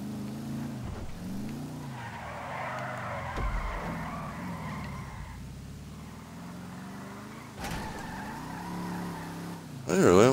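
Car racing in an Xbox One game, a stock car on a track: engine drone rising and falling through gear changes with tire squeal and skidding, steady and fairly loud, with a louder burst at the end.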